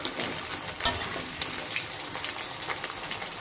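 Potatoes frying in oil previously used to fry fish, a steady close sizzle with faint crackle throughout, no voices.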